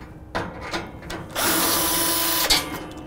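A power driver backing Torx fasteners out of the back panel of a Rittal TS-8 modular equipment cabinet, giving a few short whirring pulses and then a sustained loud high-pitched whine lasting about a second.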